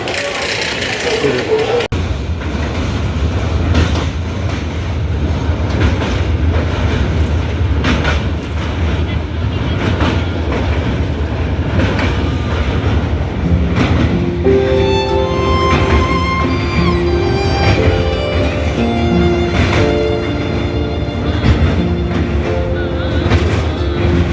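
A train rumbles along the rails with continuous rattling and clacking, loud and close, while a voice briefly comes through in the middle.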